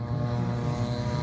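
Ukrainian attack drone in production, its small engine giving a steady droning buzz like a lawnmower, loud and continuous throughout.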